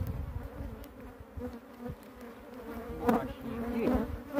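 Honey bees swarm and buzz during a rural hive transfer with very large combs, a low continuous drone close by under a brief bit of speech.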